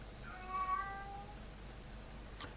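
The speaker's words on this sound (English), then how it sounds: "I've got a pussycat meowing now" A single drawn-out cat meow, clear and fairly close, followed by quiet background hiss.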